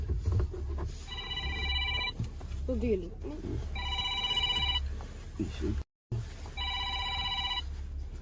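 A telephone rings in three clear bursts of trilling bells, close by, while people talk between and over the rings.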